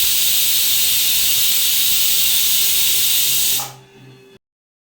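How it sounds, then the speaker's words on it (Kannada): A loud, steady hiss of steam blasts from a pressure cooker valve while cooking vegetable biryani, then cuts off abruptly, leaving a faint low hum before silence. "ಒಂದು ವಿಷಿಲ್ ಆದಮೇಲೆ ಕುಕ್ಕರ್ ತಣ್ಣಗಾಗೋವರೆಗೂ ಬಿಡಬೇಕು"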